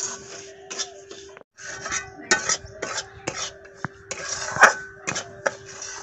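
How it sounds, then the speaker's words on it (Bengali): A spoon stirs dry semolina (suji) in a pan for milk halwa, producing irregular close scrapes, clinks and taps against the metal, with short pauses between strokes. "সুজিটাকে সবসময় নাড়তে হবে"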